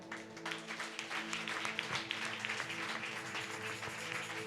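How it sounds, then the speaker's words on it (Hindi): A church congregation claps together at a Friday prayer meeting, a steady dense patter of many hands at moderate distance over a faint sustained hum, with no one speaking. "ऐसे तालियां बजा लीजिए।"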